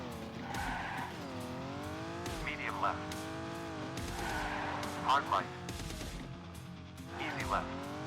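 Rally car sliding under the handbrake in the game Old School Rally, with repeated tyre skids and revving engine tones rising and falling, loud and close, while someone talks over it.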